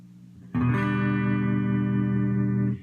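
One guitar chord strummed once, ringing out full and sustained for about two seconds with a slight processed shimmer before being stopped.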